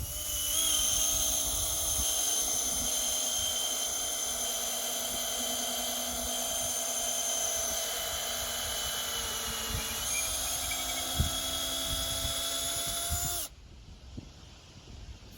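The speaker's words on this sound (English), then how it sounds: "when you're boring a big lump of timber like this, as soon as your drill bit starts cutting in" A drill in first gear bores into a big lump of timber for an Australian yard build, giving a loud, steady high-pitched whine that runs for about thirteen seconds before cutting off abruptly into quiet.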